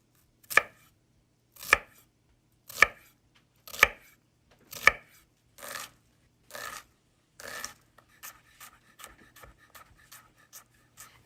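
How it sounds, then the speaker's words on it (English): A knife chops an onion on a cutting board: five heavy, evenly spaced thuds, then lighter strokes, ending in a quick run of small, rapid taps. "chop it up like so. Now I'm just gonna do the same thing with the rest of the onion"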